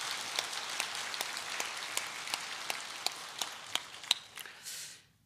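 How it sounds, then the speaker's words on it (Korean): A church congregation applauds during Sunday worship, a rapid, fairly faint patter of many hands with a few sharper claps standing out, then tapering off abruptly near the end. "이 시간 성령이 역사하심을 믿고 선제박수로 영광을 올려드리겠습니다."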